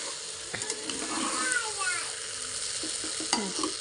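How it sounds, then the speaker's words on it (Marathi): Rice sautéing in a pan crackles with a low sizzle while a spoon scrapes and clicks against the metal in quick bursts of stirring, fairly close and moderately quiet. "एकदम सगळं एकदम मिक्स होईल असं सगळं तांदूळ परतून घेऊयात"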